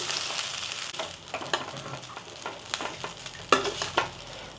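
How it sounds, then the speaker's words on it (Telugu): Rice being stirred through a hot pan for jeera rice, a scraping, rustling stir with soft sizzling beneath and a few sharper spoon knocks against the pan, close and steady. "రైస్ అంతా వేసుకొని మంచిగా కలుపుకుందాం."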